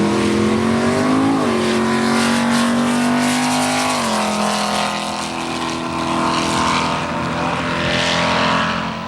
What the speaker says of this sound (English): The screeching of tires, the roar of exhaust. The light turns green and the two combatants take off toward the distant horizon.